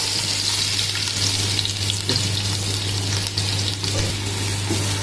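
Chopped onion hitting hot oil with bay leaves, cloves and cardamom in a cooker for veg biryani: a steady, loud, close sizzle and crackle that stays even throughout, with a constant low hum underneath.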